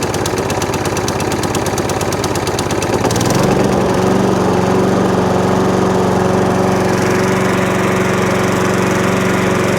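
A serviced Hayter Harrier 41 auto-drive petrol lawn mower starts with a rapid rattling pull, then its engine settles into a steady, loud, even running drone close by.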